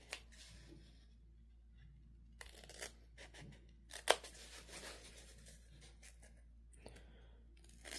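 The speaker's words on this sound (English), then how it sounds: "Now grab your scissors. We're gonna cut those boxes." Scissors snip through sewn fabric on a small wipes-carrier sewing project, a series of quiet, irregular close cuts separated by pauses, with no talking.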